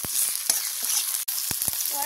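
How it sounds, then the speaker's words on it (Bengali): Chopped tomato dropped into hot oil with onion and whole garam masala, giving a bright, close sizzle with sharp crackling spurts and stirring scrapes over a couple of seconds. "এবারে টমেটো কুচিটা দিয়ে দেবো,"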